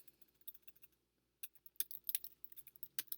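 A computer keyboard clicks quietly in a short burst, then after a pause breaks into a quicker run of crisp, uneven keystrokes, close and faint, with no talking.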